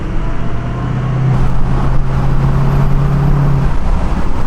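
Inside the cab of a Ford 6.0 Powerstroke diesel pickup with 300,000 miles and a towing tune, a steady engine drone and road rumble swell slightly as it accelerates.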